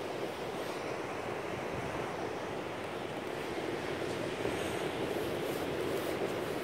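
Surf breaking steadily along a beach at night, a broad continuous wash with gusty wind noise on the microphone and no distinct separate wave crashes.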